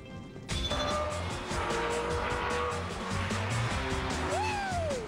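The X1 race car's high-performance 300-horsepower motor, redlining at 14,000 RPM, runs loud and sustained with strong road noise and a rising whine near the end.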